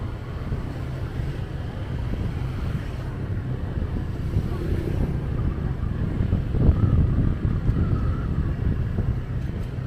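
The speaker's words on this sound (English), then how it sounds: "Just trying to give y'all a little ride on the Honda scooter, motorbike, whatever." A Honda scooter rides through the streets of Bali, heard as a steady low engine drone buried under heavy wind buffeting against the microphone throughout.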